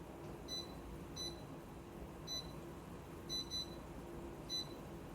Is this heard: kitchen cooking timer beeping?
yes